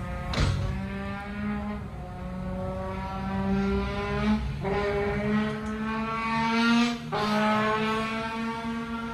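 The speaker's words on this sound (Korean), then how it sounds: "오토바이." A motorcycle engine runs close and loud, its revs rising and falling in three long sweeping pulls across the stretch, with a steady low rumble underneath.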